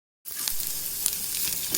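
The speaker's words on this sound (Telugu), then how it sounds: "పచ్చిమిరపకాయ ముక్కలు వేస్తాను." Green chilli pieces hit hot oil already tempered with ginger for a yogurt chutney, setting off a sudden, steady close-up sizzle with scattered crackling pops.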